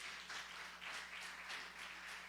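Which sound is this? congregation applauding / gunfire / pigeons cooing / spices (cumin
congregation applauding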